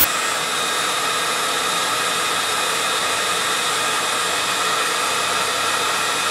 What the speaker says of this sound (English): help of a heat gun, and it only takes a couple of seconds. What I'm doing is I'm heating up the sticker evenly.